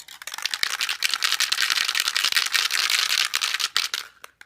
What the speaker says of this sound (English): give it a good shake, and start to paint our entire board